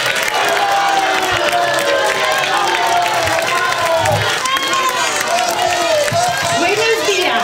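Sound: townspeople cheering and acclaiming an arriving woman

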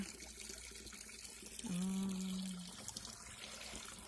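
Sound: water running from a tap into a basin

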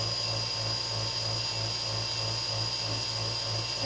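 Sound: wood lathe spinning a dark wood pen blank while polishing

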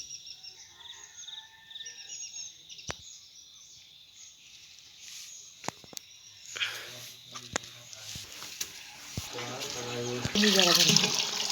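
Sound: cold water running from a hose onto house construction

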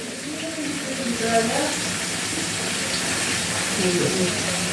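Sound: tap water poured into a teapot for brewing tea

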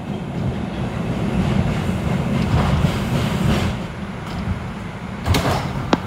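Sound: R142 subway train on the 5 line running

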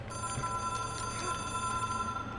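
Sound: phone ringing in video game Control

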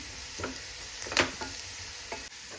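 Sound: onions sautéing in pan for chicken curry

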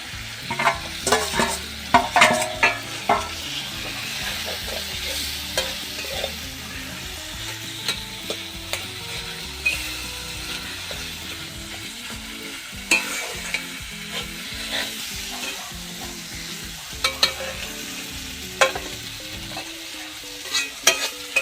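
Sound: mashed boiled potato stir-fried with spice masala in pan

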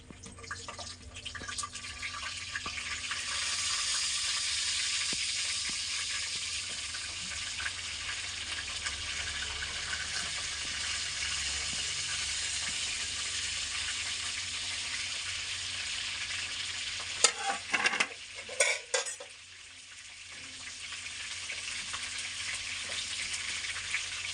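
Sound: capsicum peppers frying in hot oil

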